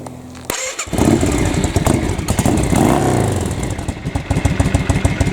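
A motorcycle with its exhaust baffles refitted, minus the wadding, starts up after a brief quiet moment and settles into a loud, close, lumpy running rhythm with slight rises and dips in engine speed.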